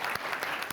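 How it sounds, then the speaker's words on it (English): A brief burst of dense audience applause at a forest-protection conference, many hands clapping together in a steady, moderately quiet wash. "Please give me a round of applause"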